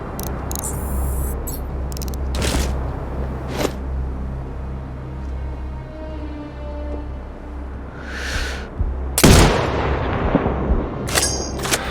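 Sniper rifle shots in a military shooter video game, a few sharp loud cracks scattered through the clip, the strongest near the end, over a low steady background rumble with no talking.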